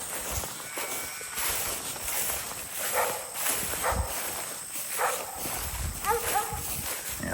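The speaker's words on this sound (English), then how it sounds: "The sheriff barking in the background." A dog named Sheriff, kept alongside sheep on a grazing farm, barks and yips intermittently in the background over outdoor noise and rustling footsteps on grass.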